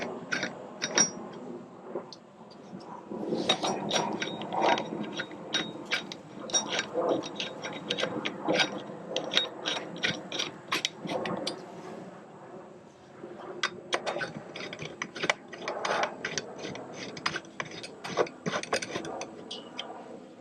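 6mm bolts run in by hand on a rear rack being fitted to a 2025 KTM 390 Enduro R, heard as soft rapid ticking and clicking of a ratcheting tool in bursts over about twenty seconds, close and fairly quiet.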